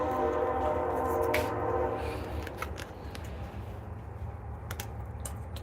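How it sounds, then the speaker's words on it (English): A train rumbles past steadily, a low continuous roar with faint clicks and rattles on top, fading slightly toward the end. "The train gonna pass by every 10 fucking minutes"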